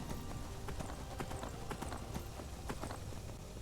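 Horse hooves clip-clop in the video game Skyrim in a brisk, steady rhythm, close and loud, with no talking.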